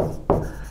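A marker or chalk scrapes across a board in one short stroke during a lecture, close and fairly loud.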